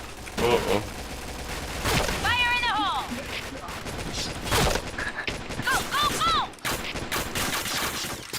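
Rapid bursts of automatic gunfire and single shots ring out in a first-person shooting video game, with metallic weapon handling and ricochet-like tones between volleys, while a player talks excitedly over the action.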